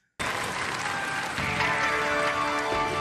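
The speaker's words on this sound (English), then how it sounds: "Give them a round of applause, ladies and gentlemen" Studio audience at a televised robot combat competition breaks into sustained applause that begins abruptly and stays steady and loud for the full stretch, with scattered cheers mixed in.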